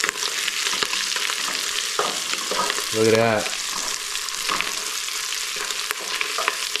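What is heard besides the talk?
jalapeños being stir-fried and mixed in pan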